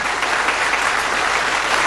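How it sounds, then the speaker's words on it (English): A studio audience at a 1981 Bullseye darts game show gives a warm round of applause, steady and loud throughout, a dense wash of clapping with no break. "a nice warm round of applause for Vic and John"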